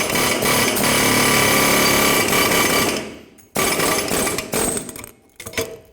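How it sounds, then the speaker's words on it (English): An air chisel driving an old bushing out of the track bar of a 2011–2016 Ford F-350, a loud rapid pneumatic hammering in long bursts, cutting off briefly and resuming in shorter stuttering blasts close by. "with the help of an air chisel, I'm going to drive the rest of the bushing out of the track bar"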